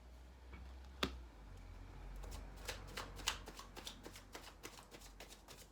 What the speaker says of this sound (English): I'm going to pull some cards.